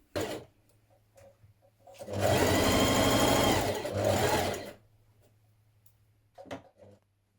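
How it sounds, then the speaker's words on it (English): A domestic sewing machine runs a continuous stitching burst of about two and a half seconds, sewing an armhole lining seam on a Butterick 6446 fitted dress. It is loud and close, framed by quiet handling clicks before and after. "we're going to stitch that seam, and then again we're going to understitch it towards the wrong side"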